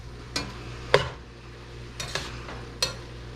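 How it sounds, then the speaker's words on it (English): Chili is stirred in a pot, making sparse, irregular scrapes and knocks of a utensil against the pot over a low background hum, close and moderately loud. "I'm going to let that go and keep mixing it occasionally"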